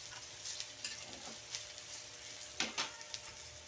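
Ginger sizzling and frying in a pan, a soft steady crackle with occasional louder stirring scrapes and ticks, fairly quiet and close, with no voices.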